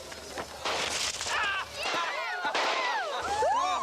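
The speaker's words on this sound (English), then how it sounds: "My apologies for the explosions. These are Indian firecrackers." Sharp bursts of Indian firecrackers go off near and far under overlapping talk and rising whistling sounds, with loud cracks scattered throughout.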